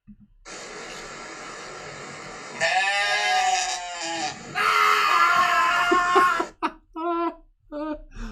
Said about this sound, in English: I love screaming goats, man.